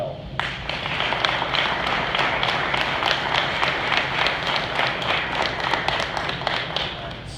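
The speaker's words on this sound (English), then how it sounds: "And I think we owe Kelly, Dave, the entire crew a big round of applause, because that really went well." Dense, steady audience applause at an AIS staff meeting honoring years of service. Many hands clap at once, filling the space evenly for the whole stretch without a clear break.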